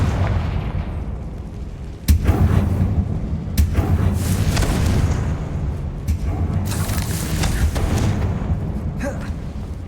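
A Confringo fire spell explodes in Hogwarts Legacy, giving loud booming blasts at irregular intervals over a continuous rumbling game soundscape, with no one talking.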